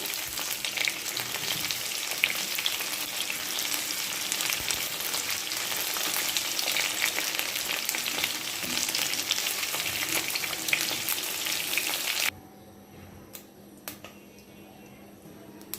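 Pointed gourd (potol) sizzles steadily in hot oil, a dense continuous frying crackle for about twelve seconds before it suddenly drops to a faint, quiet background with a few small clicks.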